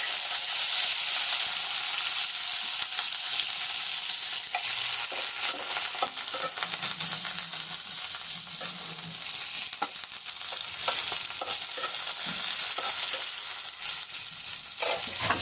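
Onions sizzling in hot oil in a pan while being stirred for a spicy fish curry, a loud continuous frying hiss broken by scraping spatula strokes throughout.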